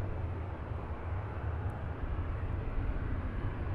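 An airliner at Fort Lauderdale airport makes a continuous, loud, broadband roar of jet engines at takeoff power, steady and close for the whole stretch with no talk.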